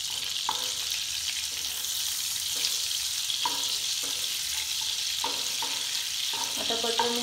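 Butter sizzles in a frying pan for butter chicken while being stirred and mixed, a steady near hiss broken by regular scraping strokes of a spoon against the pan, with no one talking.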